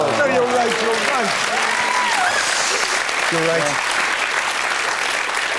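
A studio audience at a comedy panel game claps in a sustained round of applause while several people talk and laugh over it.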